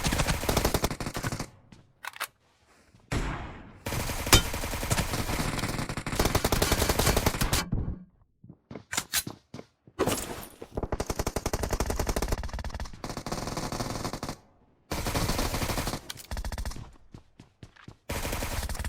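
Suppressed QBZ rifle fire in the game PUBG Mobile, heard as loud repeated bursts of rapid automatic shots broken by short silent gaps, with no voices.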